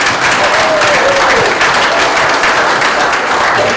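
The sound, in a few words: audience applause at a meeting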